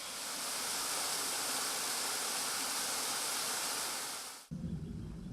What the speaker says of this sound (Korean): 산책로를 따라 흐르는 시원한 계곡물 소리가 귀를 감돕니다.